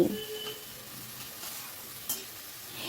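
Chopped tomato sautéing with spices in a pan for a Bengali ash gourd curry, a soft, steady sizzle with a few light scrapes of stirring and one brief clink near the end, no voices.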